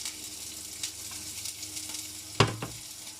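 A yellow onion sizzles in a frying pan, a steady soft hiss with a louder burst of crackle partway through as it is stirred.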